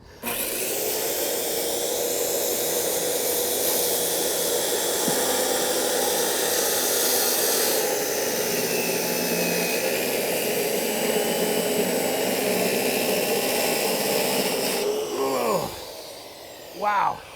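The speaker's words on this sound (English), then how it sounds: "That takes some work, even with that beautiful saw." A power saw rips through hardwood deck boards for a deck being built on concrete, a loud, steady whining roar that runs unbroken for about fifteen seconds before cutting out, with a brief clatter at the end and no talk.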